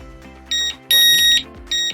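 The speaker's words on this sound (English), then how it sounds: "the siren will beep 3 consecutive times" An OSI strobe siren sounds three loud, piercing electronic beeps while pairing with an alarm panel, the middle one held longer than the others.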